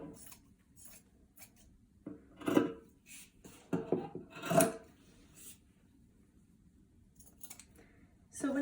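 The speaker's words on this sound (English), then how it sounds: "go ahead and trim the rest of your corners and fabric pieces ready to iron and turn through" Several brief, quiet snipping and rustling bursts of scissors trimming the corners of sewn fabric pieces for reusable kitchen roll, sounding close and sparse, with long pauses between cuts.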